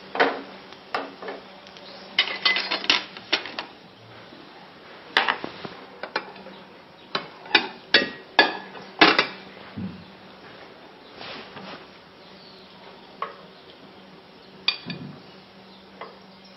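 Beef sausages are lifted out of an oily frying pan onto a plate, giving a string of light metallic clinks and scrapes of utensil on pan and plate, irregular and close, with quiet pauses between.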